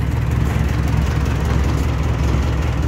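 A 1963 Ford 2000 series tractor engine idles at low speed, a steady, close, loud low rumble with an even, continuous throb and no talking over it.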